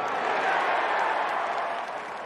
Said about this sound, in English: And the fans applaud the base hit.